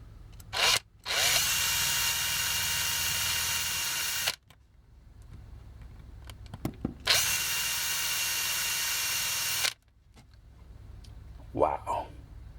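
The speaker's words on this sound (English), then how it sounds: "without any lubrication, I'm going to drill it out." A power drill bores out a pin on a Transformers G1 Takara toy without lubrication, giving two loud, sustained whirring bursts of a few seconds each, separated by quiet pauses, with a brief voice near the end.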